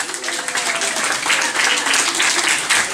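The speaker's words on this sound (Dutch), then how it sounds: "Nog een keer een groot applaus voor onze mini-horen dansmariekes." Audience applause for a young carnival dance troupe at an indoor revue show, a dense, steady wash of clapping from a large crowd lasting throughout with no break.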